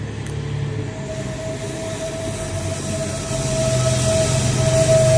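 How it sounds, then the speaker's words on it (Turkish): A TCDD train at Selçuk station in Turkey rumbles steadily nearby with a sustained tonal hum, the noise gradually growing louder as it moves. "Yani Selçuk'taki 10 Kasım'ın son treni budur."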